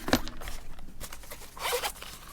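A zipper runs along a hard shell charging cable case in a few short, crisp pulls, close and alone.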